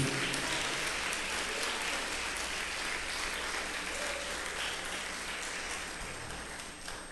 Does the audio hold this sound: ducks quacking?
no